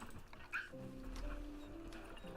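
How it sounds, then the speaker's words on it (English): Lemurs in the Planet Zoo video game give faint, short barking yips and whimpering calls, a few quiet cries over a low game soundscape. "Are those lemurs barking?"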